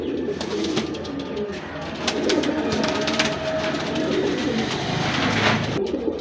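A male checker pigeon cooing, a pair kept for sale, with repeated low rolling coos close by over steady background noise; no speech.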